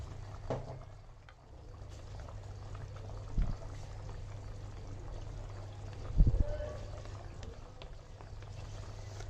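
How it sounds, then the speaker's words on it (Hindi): About two tablespoons of cornflour are mixed into three or four tablespoons of water in a kitchen. Faint liquid stirring and pouring sounds come and go, with a couple of brief louder clinks or splashes against low background hum. "अब ये मैंने पानी ले लिया 3 से 4 टेबलस्पून और इसमें कॉर्नफ्लोर डाल देना है 2 टेबलस्पून के करीब और इसे मिक्स कर लेना है।"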